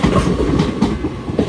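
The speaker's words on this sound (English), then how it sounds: "800 207 is going towards Lincoln Central only for our penultimate train of the day." An LNER Azuma Class 800 train bound for Lincoln Central runs through Newark Northgate station, a loud close rumble with rhythmic clickety-clack of wheels over rail joints, no talk.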